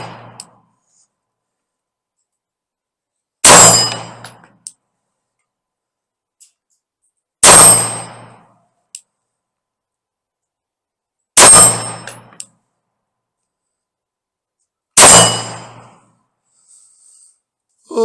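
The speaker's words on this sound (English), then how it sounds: "now let's put some rounds down range with the Witness 2311X here" Four single shots from a Girsan Witness 2311 Match X 9mm pistol crack out about four seconds apart, each loud and sharp with a short ringing echo tail, separated by near silence.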